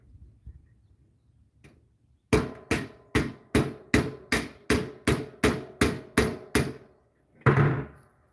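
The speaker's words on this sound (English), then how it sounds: "Rivet's now set. Now we peen over the rivet end." A hammer peens over the end of a metal rivet in a run of about eleven sharp, ringing, evenly spaced blows, close and loud, after a quiet lead-in, with one last strike trailing off.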